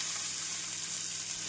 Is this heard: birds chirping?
no